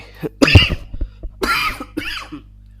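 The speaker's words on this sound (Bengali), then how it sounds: "একটু অসুস্থ তো এই জন্য একটু কাশি আসতেছে" A person coughs several times in short harsh bursts with throat clearing between them, close and loud against a faint steady electrical hum, with no speech.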